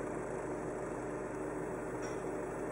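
A Kia New Sportage diesel engine with a failed DPF catalyst idles steadily with a low, even rumble and slight clattery knock, close by and continuous throughout.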